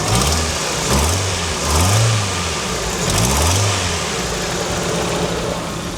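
A 1994 Toyota Corolla engine revving, several rising and falling rev swells over a steady idle, loud and close with a rough mechanical edge.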